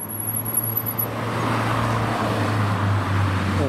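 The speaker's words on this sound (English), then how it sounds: "Caterham is back for a flyby." A Caterham sports car drives past in a flyby at a drive-through car show, its engine swelling and fading as it goes by, with a steady roadway rumble underneath and no talk.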